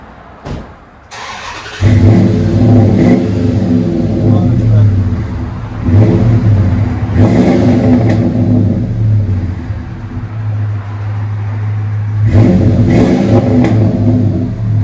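A 2004 Dodge Ram's 5.7L HEMI V8 with a Flowmaster 40 exhaust revs repeatedly with a deep, throaty rumble, rising in several bursts between steady idling, close and loud.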